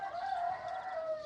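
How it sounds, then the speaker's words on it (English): A rooster crows once in a drawn-out call on a Camino Francés walking route near Ladigos, heard moderately close and alone, with no talk over it. "Oh, good morning, Rooster."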